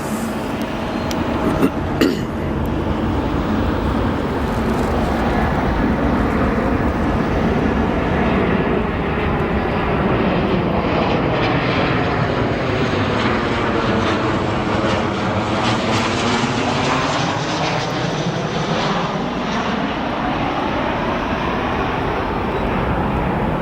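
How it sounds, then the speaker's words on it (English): A Boeing 737-924ER airliner arriving from Houston at O'Hare International Airport roars steadily and loudly, its engine whine sweeping in pitch as it passes close by, with a brief cough-like sound near the start. "our first arrival of this morning, a Boeing 737-924 extended range arriving from Houston"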